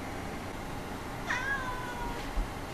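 A single cat gives a clear meow midway, fairly close against a quiet indoor background, followed by a faint soft thump.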